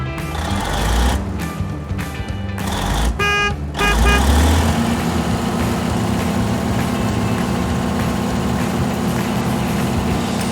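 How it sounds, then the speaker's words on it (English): A tipper truck's diesel engine rumbles loud and close, with a couple of short gaps and a horn-like tonal blast early on before settling into a steady heavy drone. "Tipper truck. Similar to a dump truck, but designed for quicker unloading of materials."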